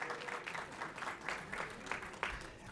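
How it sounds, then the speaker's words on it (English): Faint, sparse audience applause at a reading quiz competition finals, uneven and thin with individual claps standing out in a quiet room. "Let's give a round of applause to these guys and wish them the best of luck."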